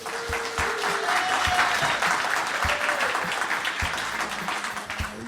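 Audience applause for the speakers at the close of a live show, steady dense clapping throughout with a few faint voices mixed in.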